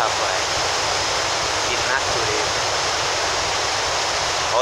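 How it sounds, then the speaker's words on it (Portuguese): Powerful waterfall roaring steadily at close range, a dense continuous rush of falling water that stays loud and unbroken throughout. "Olha a força dessa água, hein?"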